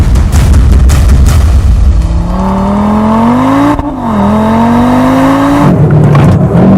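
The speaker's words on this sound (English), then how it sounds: "Let's begin with the launch control start with our new launch control traffic light" A 2022 Audi RS3 makes a launch control start, its engine roaring loud and close as it climbs through the revs, dipping briefly at a gear shift before pulling hard again.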